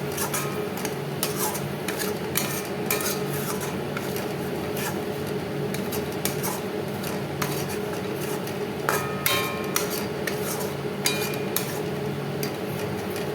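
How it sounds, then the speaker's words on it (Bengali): Spices being stirred and sautéed in a pan for mustard hilsa fish, a spoon scraping and clinking against the metal in a steady, busy rhythm with sharp taps over a constant sizzle. "এবার ভালো করে কষাতে হবে যতক্ষণ পুরো বন্ধ হয়ে যায় চলে যায়"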